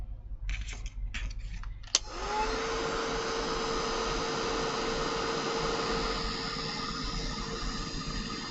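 After a few brief rustles and a click, a handheld craft dryer starts up and blows a steady, even whoosh close by, drying paint on paper.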